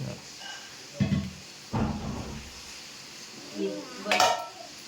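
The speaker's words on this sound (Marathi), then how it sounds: "ही आता ही सगळी भांडी विंडी जमा करते आम्ही." Metal dishes and pots are gathered together in a home kitchen, giving a few short clattering clinks and knocks spaced between moments of quiet, with a voice speaking nearby.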